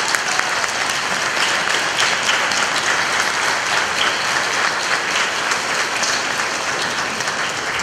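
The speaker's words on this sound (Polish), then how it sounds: "Brawa dla wszystkich." Sustained applause from a concert audience at a school Christmas concert, a dense, steady clatter of many hands holding at an even loudness throughout with no voices standing out.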